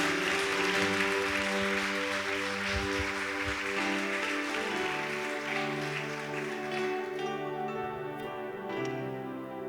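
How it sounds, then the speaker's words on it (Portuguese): A congregation claps in a church during worship, a soft wash of applause under sustained organ or keyboard chords. The music dominates and the clapping stays fairly faint and steady. "Pode aplaudir a Jesus."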